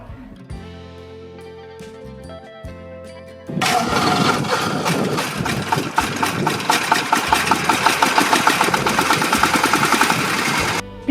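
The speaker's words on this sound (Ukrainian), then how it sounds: "Запускаємо двигун мотоблока." After a few seconds of quiet, a walk-behind tractor's small engine cranks on its electric starter and catches, then settles into a steady, loud, rattling idle that runs to the end.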